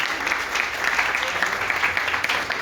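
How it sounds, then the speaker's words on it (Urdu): A church congregation claps steadily through a Sunday gathering sermon, a dense, even wash of hand claps with no pause, close and full throughout. "زوردار تالیاں خدا کے لیے بجائیں"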